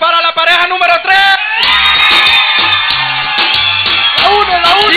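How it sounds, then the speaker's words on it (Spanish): Loud shouting and cheering from a crowd for the third couple at a reggaeton dance contest, with whoops and yells up front, then the roar drops under pounding bass music. "Grito y aplauso para la pareja número tres."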